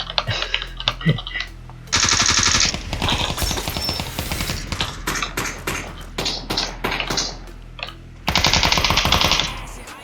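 Gunfire in the video game Ring of Elysium: loud, rapid automatic bursts and single shots in several volleys, with short pauses between them and quieter clicks in the gaps.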